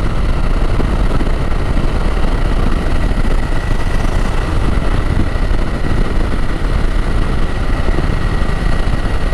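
A BMW F900 GS motorcycle engine drones loud and steady while riding, a continuous close roar mixed with wind noise and no breaks.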